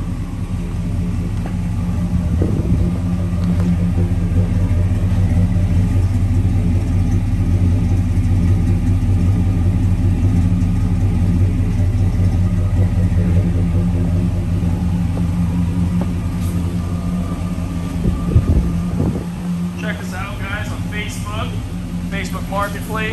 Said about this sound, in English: Car sounds nice, sounds healthy.